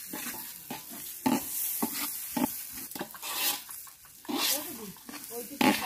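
Rice for chicken biryani is fried and stirred in oil in a pot, with scraping stirs and a soft sizzle under a person talking.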